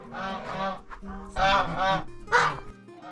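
Geese honk loudly in several bursts, harsh nasal calls close by, with brief pauses between groups of honks.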